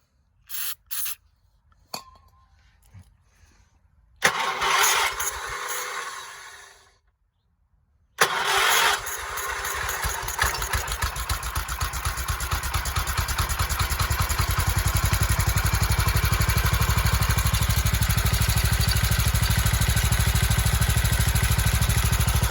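A John Deere 216 lawn tractor engine cranks in short bursts, falls silent, then catches and settles into a steady, loud mid-pitched idle that grows fuller and more constant over the second half.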